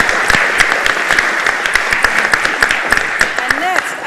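An audience at a law school moot court competition applauds the judging bench, dense and steady clapping that sounds close and loud throughout.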